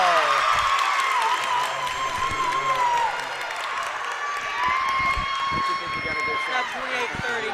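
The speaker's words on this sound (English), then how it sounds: "The Greenwood crowd is going wild here." The Greenwood crowd at a basketball game against South Warren roars and cheers in a sustained loud wash of voices, with sharp squeaks and shouts cutting through after a tying shot.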